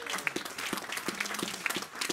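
Sparse clapping from a church congregation, quiet and thin, with scattered individual claps standing out over a faint murmur.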